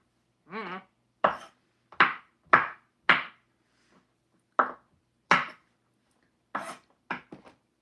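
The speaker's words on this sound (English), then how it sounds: "I always just roughly chop these" Mushrooms being roughly chopped for spaghetti, a knife striking a cutting board in about a dozen crisp, close knocks, irregularly spaced with brief pauses and a quick flurry at the end.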